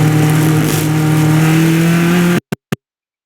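Race car engines at full throttle through a corner on a road course, a loud steady high-revving drone with rising harmonics that cuts off abruptly, followed by two brief bursts.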